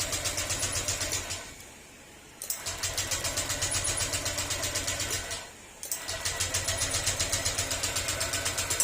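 Honda Click 125 scooter engine running at a steady idle with a fast, even pulsing rhythm, cutting out twice for about a second before catching and running again, close and loud with no talk.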